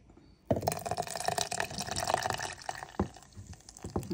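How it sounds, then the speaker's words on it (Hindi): Juice of two lemons goes into a guava juice mixture, making a loud wet splashing and pouring sound with dripping and sloshing that starts suddenly and continues unevenly, close up. "अब मैंने इसमें 2 लेमन का जूस भी डाल दिया है।"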